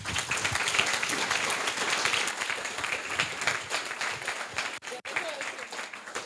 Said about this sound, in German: Ein Applaus für die Gruppe Smart Hut.